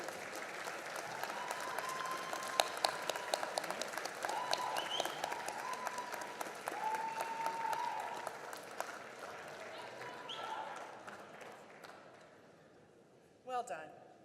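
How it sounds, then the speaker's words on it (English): A commencement ceremony audience applauds in a steady, sustained wash of clapping that lasts several seconds, with a voice audible over it before the applause fades out. "give them a round of applause"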